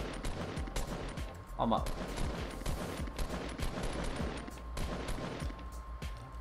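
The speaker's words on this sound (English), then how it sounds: "It's just a lot of shots going around." Dense, overlapping gunfire from the Fortnite Battle Royale video game crackles steadily throughout, with several shots layered together at a moderate level beneath brief speech.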